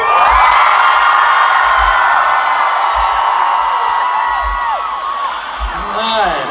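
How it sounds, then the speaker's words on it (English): A huge concert crowd at a show in Denmark screams and cheers at full volume, a dense, sustained roar of high-pitched shrieks that slowly tapers off, heard at close range. "So I'm going to count to 3, and you're going to give me your biggest scream, and you're going to try and be the loudest crowd in the world."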